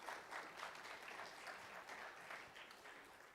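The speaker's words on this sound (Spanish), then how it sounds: "Denle un aplauso al Señor por estos valientes hermanos" A church congregation applauds, honouring God for the brave brothers, in a faint, even wash of clapping that holds steady without speech.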